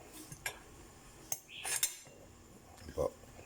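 A metal lid is set onto a cooking pot of sinigang with pork ribs, tomato and salt, giving a few sharp close clinks and one brief scraping clatter against quiet background.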